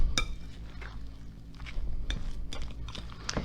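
Spoon scraping and clinking against a bowl while stirring a chunky crab meat mixture, a few distinct knocks spaced irregularly, close and fairly quiet.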